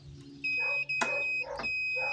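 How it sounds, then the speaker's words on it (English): A multimeter set to continuity emits a sustained high electronic beep while its test leads touch during a check of vehicle fuses, with brief interruptions and faint clicks, heard close and alone. "select a special function for continuity, which will allow you to hear an audible beep if the fuse is good"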